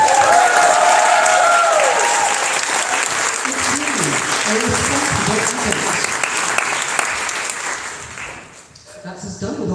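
An audience at an open meeting of the Beltane Fire Society breaks into loud, sustained applause that fills the room, with voices rising underneath before the clapping fades away near the end.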